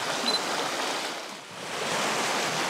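Choppy sea water at a cliffside, heard as a steady, broadband wash of surf that dips briefly midway and then swells back, fairly close and with no voices.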